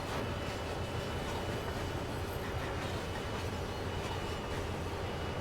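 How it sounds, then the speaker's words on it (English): An SD40-2 locomotive hauling coal cars in Train Sim World slows under light braking, a dense continuous rolling rumble with hiss, steady and fairly quiet, no talk. "I want to just put our brake on a little bit here to slow down a little bit."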